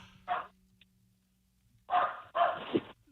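A dog gives three short, sharp barks, one alone and then two close together, fairly near and distinct against a quiet background.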